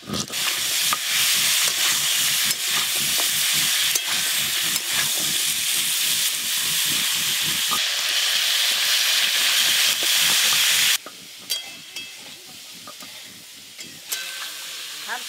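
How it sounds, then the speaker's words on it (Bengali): Mixed vegetables for khichuri lightly frying in oil with whole cumin, a steady hiss and sizzle cut by a rhythmic scrape of the spatula, quieting to softer, sparser stirring near the end. "তাই সবজিগুলো আমি একটু হালকা করে ভাজবো।"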